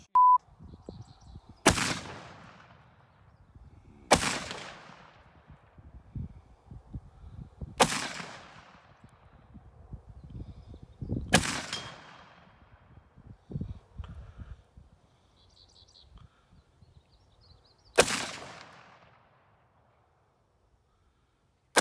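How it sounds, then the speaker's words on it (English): Five loud, sharp gunshots from a .50 caliber Beowulf rifle ring out outdoors, spaced several seconds apart with sharp onsets and decaying tails, with faint movement and rustling between the shots. "Just shot the 50 cal Beowulf."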